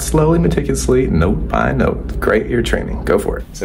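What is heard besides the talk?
No everyday noises stand out.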